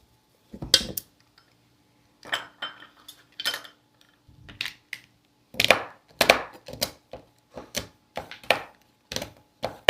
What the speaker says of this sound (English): the reason I am mixing a little and stirring it is just to make sure it's a little more equally distributed